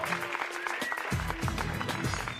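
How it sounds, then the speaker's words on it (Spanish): Audience clapping continues as a sustained, moderately loud wash of applause, with a speaking voice briefly mixed in early on. "¡Fuerte el aplauso!"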